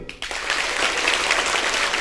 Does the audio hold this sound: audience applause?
yes